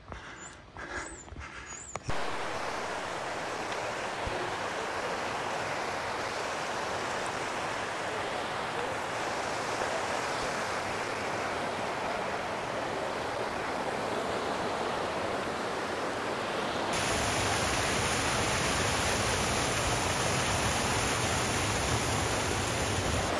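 A small mountain torrent near Arolla rushes continuously in a steady, broadband wash of water, close and unbroken throughout.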